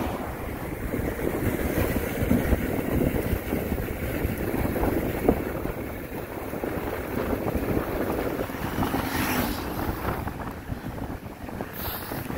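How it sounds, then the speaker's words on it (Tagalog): Strong wind roars into the microphone while cycling near Pasilagun, San Andres, a loud continuous buffeting rumble that persists throughout with no voices. "Lakas ng hangin guys."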